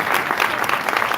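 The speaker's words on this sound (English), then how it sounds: "let's give them a big hand" Audience at a community symposium applauding, a dense steady burst of many hands clapping close by, with no speech over it.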